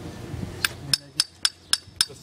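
Sharp metallic strikes of a hammer ring out in a steady series of about six blows, roughly evenly spaced, close and fairly loud after a brief murmur, during Cadweld work.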